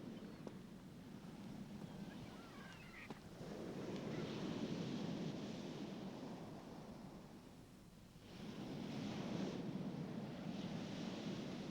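Sea waves roll onto the shore in a steady, soft wash with wind, swelling into two broader surges a few seconds apart, distant and without speech.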